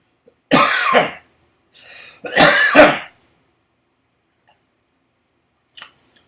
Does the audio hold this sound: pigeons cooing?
no